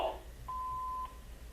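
A phone gives a single steady electronic beep lasting about half a second, faint and alone in a quiet room.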